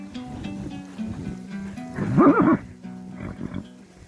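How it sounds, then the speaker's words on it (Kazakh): A horse lets out a single loud whinny near the middle, rising over a steady low background hum, as a herd of horses is driven to new pasture near Sileti in Kazakhstan in spring. "Беші жылқы."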